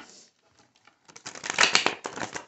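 Tarot cards are shuffled by hand in a quiet room, starting with a few faint riffles and then building into a dense, close, crackling flurry of card flicks.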